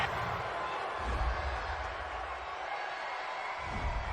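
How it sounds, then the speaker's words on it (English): A stadium crowd at an NFL game between the Minnesota Vikings and Dallas Cowboys reacts to a roughing the passer penalty call, a broad sustained roar and murmur with swelling low rumbles, a commentator speaking over it. "Well, this crowd does not like that call."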